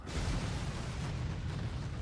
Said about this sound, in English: And we're causing explosions.